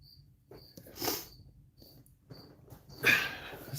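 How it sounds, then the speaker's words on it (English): Loud crickets chirp in short, repeated high-pitched bursts close by, with brief pauses between the trills and no talking. "You guys hearing those loud crickets?"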